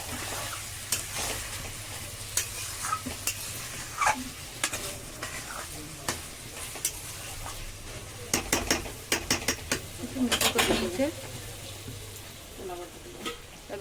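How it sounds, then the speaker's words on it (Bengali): A spatula stirs meat and potatoes together in a frying pan, with repeated scraping and clacking strokes in irregular bursts over a low sizzle and background hum. "দেখো ভালো করে আলুর সাথে মাংসটাকে মিক্স করে নিচ্ছে মা।"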